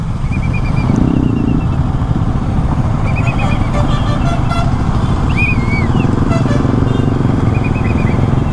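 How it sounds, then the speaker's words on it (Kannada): Superbike motorcycles arriving and parking at a hotel, with engines idling and revving nearby, a few short horn toots, and other traffic around them. "ನೋಡ್ಬೋದು ಬೈಕ್ ಪಾರ್ಕ್ ಮಾಡ್ತಾವ್ರೆ."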